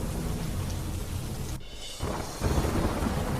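Heavy rain falls in Dehradun, Uttarakhand, a dense, steady downpour hissing across the road, with a brief break in the wash midway and a deep rumble underneath.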